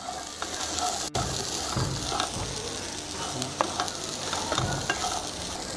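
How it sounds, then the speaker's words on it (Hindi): Boiled chana being stirred with salt in a hot pan, giving a steady close sizzle and frying crackle with scraping stir strokes throughout, with no talking. "डाल के अच्छे से मिक्स कर लीजिए।"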